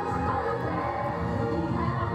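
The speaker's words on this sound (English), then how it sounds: "And the crowd singing along." A concert crowd sings along during a live performance, a dense, steady mass of voices blended with the loud music throughout.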